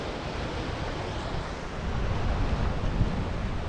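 Sea waves surge against coastal rocks near a temple on the Karnataka shore, a steady broadband roar that swells louder in the second half, with wind buffeting the microphone throughout.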